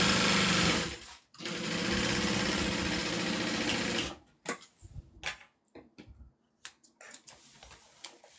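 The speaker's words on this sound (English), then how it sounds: "I'm sewing over the bottom, the strap, the foam, and the pocket" A sewing machine pushes through thick layers of strap, foam and a pocket, humming steadily for about four seconds with a short break near the start, then giving way to a series of scattered clicks and brief stitch bursts.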